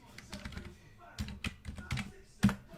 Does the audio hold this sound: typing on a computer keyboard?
yes